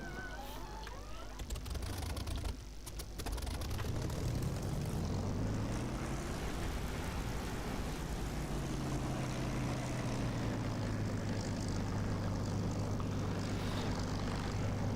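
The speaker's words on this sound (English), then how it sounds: "This is the Echo sound, Echo 19 Spitfire engine sound." A Spitfire's propeller engine in the DCS flight simulator starts up and settles into a steady, deep droning roar that holds loud and continuous.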